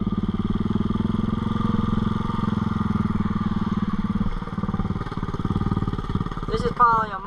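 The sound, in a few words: motorbike engine driving through creek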